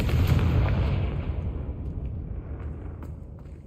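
A Confringo blasting spell bursts in Hogwarts Legacy, a loud, close boom whose rumble slowly fades away over a few seconds, with no talk over it.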